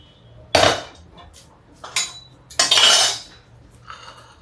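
A metal kadhai holding cooked bhindi is shifted across the stove in a few loud metallic scrapes and clanks, two main bursts separated by quiet moments, close by.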